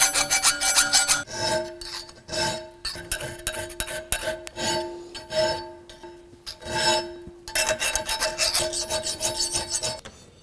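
Abrasive paper rasps back and forth over the flats of a twist damascus steel bowie knife blade. The sanding strokes are close and loud, coming in steady rhythmic runs with short pauses between them.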